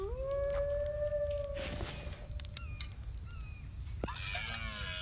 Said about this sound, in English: I don't like that wolf being close.